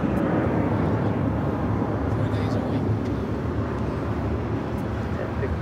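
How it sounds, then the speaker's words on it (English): A China Airlines Airbus A350 airliner on short final approach at Los Angeles airport gives a steady, loud, broadband jet roar that stays constant throughout, with a voice talking over it. "China Airlines, the A350 on short final for 2 forward right"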